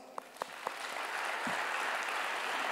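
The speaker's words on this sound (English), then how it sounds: "let's give your parents a round of applause" Applause for graduates' parents at a Grade 10 completion ceremony, starting with a few scattered claps and swelling into a steady round of clapping from a large audience.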